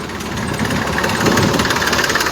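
A tractor engine runs close by with a loud, rough, steady knocking rumble and no voices over it.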